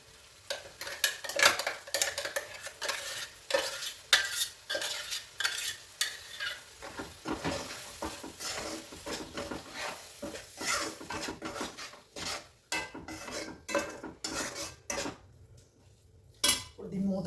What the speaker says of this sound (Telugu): ఇప్పుడు ఇవన్నీ మంచిగా కలుపుతాము